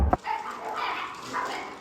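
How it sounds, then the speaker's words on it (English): A puppy barks and yelps excitedly in a single sharp burst at the start, then quieter whimpering or yipping continues at a moderate distance. "God, puppy's going crazy"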